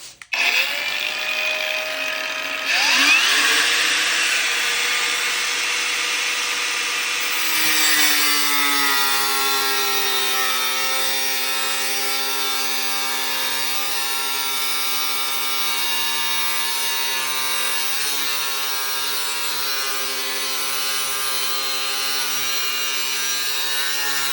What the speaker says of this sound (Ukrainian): Відріжемо ось цю пластину товщиною аж 6 мм.